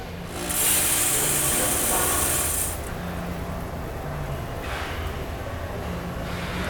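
A Vibratory Filler VF100E runs a fill cycle: a bright, loud hiss for about two seconds, then a steadier low mechanical hum and rattle that carries on alone.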